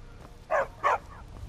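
A dog in a video game gives two short, clear barks in quick succession, fairly close and alone against a quiet background.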